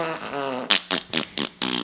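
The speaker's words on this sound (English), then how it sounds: "That was like my DJ fart horn." A DJ fart-horn sound effect plays loud and close: one long buzzing blast, then four short rhythmic honks in quick succession, with no voices.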